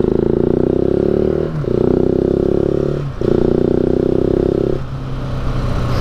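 A motorcycle engine with an aftermarket air filter revving hard in steady bursts with brief dips between them, loud and close, its intake roar raw and aggressive.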